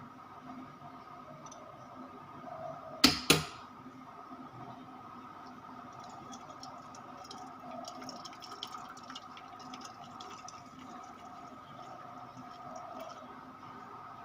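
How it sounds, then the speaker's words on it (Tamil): Faint water trickles steadily as white jaggery water is strained into a kadai on the stove, with two sharp clinks early on and a quiet kitchen around it. "இந்த கடாயில் நம்ம இந்த வெள்ளை தண்ணியை வடிகட்டி விட்டுடலாம்."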